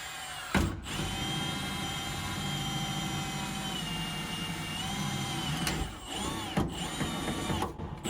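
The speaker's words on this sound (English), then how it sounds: "we'll make our mark just like that and drill" A power drill whirs continuously at close range, drilling down through a floor, a steady mechanical drone with brief stops and restarts near the end.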